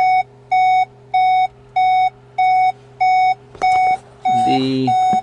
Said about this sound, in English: Sorry for the beeping, but the car doesn't like that I have it on and in drive.